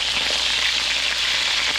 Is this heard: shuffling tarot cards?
no